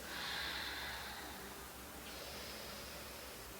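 Steady breathing during an intermediate power yoga session, long airy breaths with a brief pause midway, close and soft, no talking.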